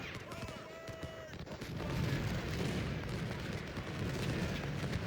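Muffled artillery booms and rumbling volleys roll on steadily from a distance in Ultimate General: Civil War, a continuous low battlefield din with a brief tonal cue near the start.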